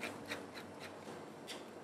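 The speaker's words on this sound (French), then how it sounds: "Poivre du moulin," A pepper mill grinding pepper during seasoning of a fish tartare in a kitchen, a close, dry rasping crunch in a quick series of repeated twists, fairly quiet.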